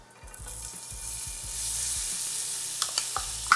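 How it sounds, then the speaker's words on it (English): Onions sautéing in hot oil in a pan over a medium flame, cooked as a gourmet pizza topping. A steady, close sizzle builds after they drop in, with a few utensil clatters near the end and no talk. "And now we're gonna go in with the onions."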